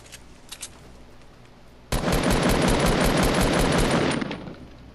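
An SMG in the video game Fortnite fires a rapid, continuous burst lasting about two seconds. It is loud and close and follows a quieter stretch with a few faint shots earlier.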